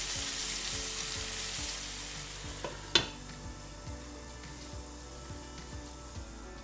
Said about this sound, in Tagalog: pwede natin ilagay ang ating chicken. Spread lang natin to sa kawali